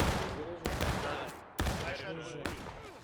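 Musket volleys from a large 300-player American Civil War battle in War of Rights at Piper Farm, three loud crackling bursts a second or so apart with ragged tails, a voice talking between them.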